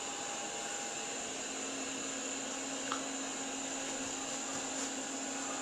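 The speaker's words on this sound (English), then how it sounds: "And this is maximum. Still, again, very quiet compared to normal vacuums." A Eufy RoboVac 15T robot vacuum runs at maximum power indoors, giving a steady, fairly quiet whirring hum with a constant tone throughout and no talking.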